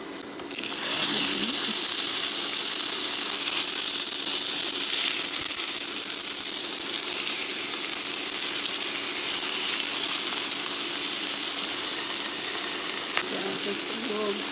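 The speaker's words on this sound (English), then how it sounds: "I'm turning the skillet down to 275 so I can cook the hamburgers." Ground beef hamburger patties cook in a skillet turned down to 275 on medium-low heat, making a loud, steady hissing sizzle that starts abruptly and holds constant throughout.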